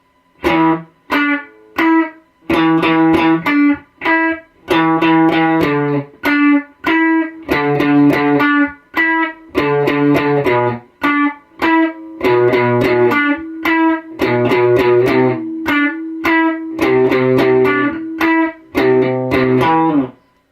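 A distorted electric guitar plays the main string-skipping riff, quick plucked notes alternating between low and higher pitches in a steady rhythm.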